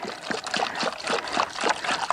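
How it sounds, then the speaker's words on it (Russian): Liquid wood treatment poured from a jar in small portions, a close, wet trickling and splashing with soft repeated gurgles in short bursts. "наливаем маленькими порциями"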